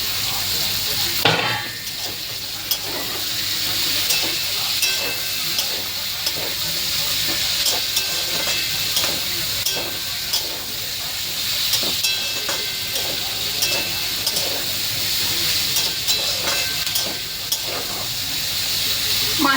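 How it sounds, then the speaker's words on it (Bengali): Sliced bitter gourd tipped into onions already fried in hot oil in a home kitchen, giving a loud, steady sizzle and hiss that carries on throughout with occasional stirring clatter, no voices. "এবার পেঁয়াজটা ভাজা হয়ে গেছে। এবার এই উচ্ছেগুলো দিয়ে দেবো,"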